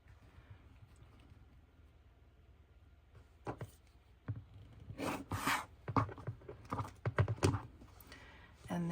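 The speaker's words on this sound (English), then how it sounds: "Now I'm going to use my quilt ruler and my rotary cutter to trim" A rotary cutter slicing fabric along a quilt ruler on a cutting mat for a slow-stitch junk journal cover, quiet rubbing at first, then a cluster of crisp scraping and clicking strokes growing louder toward the end.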